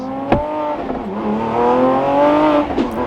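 Lamborghini Aventador SVJ Roadster engine droning steadily as the car drives, loud and close, with a sharp knock near the start and another near the end.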